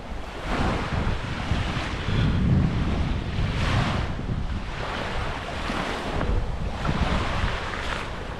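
Waves wash continuously onto the beach at Banana River, Florida, a loud, rushing surf with rhythmic swells every couple of seconds, heavily mixed with wind buffeting the microphone, no voices.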